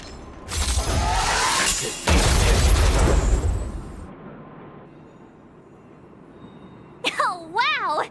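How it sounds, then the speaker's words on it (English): A stealth bomb goes off in Honkai Star Rail with two loud bursts of crashing, shattering debris, then a quiet stretch before a warbling electronic game sound at the end. "We wiped them all out in a single explosion!"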